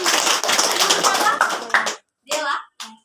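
Classroom applause during a science lesson on making a cloud in a glass: dense, steady clapping from a group of students for about two seconds, then it breaks off and brief voices follow.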